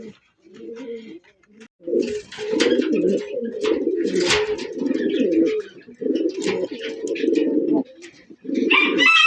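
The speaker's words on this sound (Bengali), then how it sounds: "আর এগুলো রেসার কবুতর" Racing pigeons at a breeding farm give repeated rolling coos in bursts separated by short pauses. The calls are close and fairly loud, with higher chirps scattered between them.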